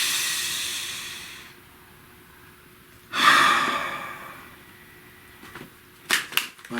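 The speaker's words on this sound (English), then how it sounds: "Breathe." Two audible breaths, a drawn inhale followed later by a shorter breath, with soft hissing air and quiet room tone in between, no talking.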